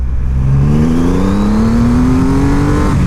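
A 2020 Triumph Rocket 3 motorcycle accelerates hard in second gear from about 30 to 70, its loud, close engine note climbing steadily in pitch throughout with a constant rushing roar.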